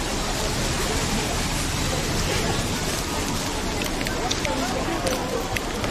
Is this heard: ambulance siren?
no